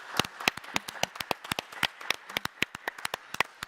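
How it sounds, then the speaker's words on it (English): A conference audience applauding the band after a youth awards ceremony, a sparse run of sharp distinct claps, close and fairly loud with no voices. "So everyone, please, the applause that our wonderful band just had."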